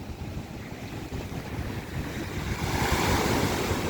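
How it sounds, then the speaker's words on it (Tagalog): Strong sea waves roll and surge under gusty wind buffeting the microphone, a loud, broad wash that swells toward the end, with no voices. "yun nalakas ng alon,"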